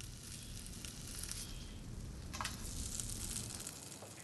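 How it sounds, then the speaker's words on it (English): A steady, soft sizzle of fish frying in a hot pan, with crackling hiss that swells slightly midway and continues without pause. "frying them in a preheated pan"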